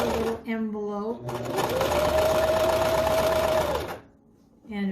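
A sewing machine stitches a seam along a homemade cloth face mask, a steady close whirring run of about three seconds set between stretches of talk.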